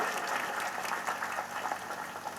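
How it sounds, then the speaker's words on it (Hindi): A church congregation claps at an outdoor pilgrimage feast of Our Lady of Good Health, Velankanni, a steady dense patter of many hands with no lulls, heard at moderate distance. "ताली बजाइए।"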